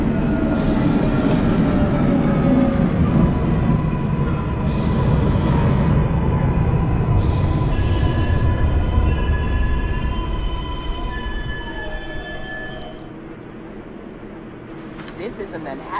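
Subway train in the Hmmsim 2 game, a 6 express arriving at Castle Hill Avenue, rumbling and screeching into the station, then slowing and quieting near the end, with brief high hisses and a spoken station announcement over it.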